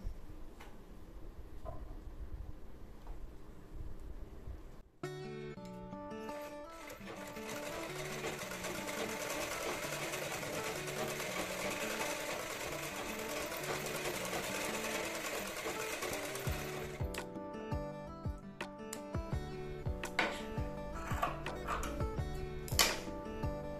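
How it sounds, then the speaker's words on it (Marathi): Sewing machine stitching a blouse, a fast continuous whirring stitch run of about twelve seconds after some quiet handling, followed by shorter bursts and clicks. "आता सेम इथे स्टिच करून घ्यायचं."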